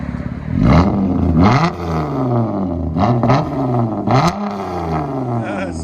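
A Chrysler 200 with a 3.6L V6 and straight-pipe exhaust revs hard several times in quick bursts, each rising roar dropping back, loud and close.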